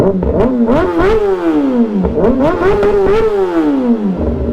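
A Kawasaki ZX-4R motorcycle engine revs hard and close, its pitch repeatedly climbing and falling in quick throttle blips, loud and alone.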